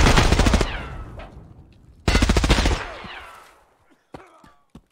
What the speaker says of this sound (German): Schießt noch ein zweiter auf ihn.